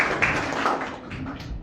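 An audience at a citizens' forum on electoral reform in Tlaxcala applauds briefly, a dense patter of clapping from a roomful of people lasting under two seconds.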